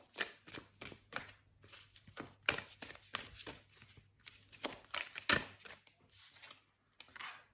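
Tarot cards are shuffled by hand close to the microphone in a series of quick, crisp riffling and tapping bursts with short pauses between them, soft overall and with no talking.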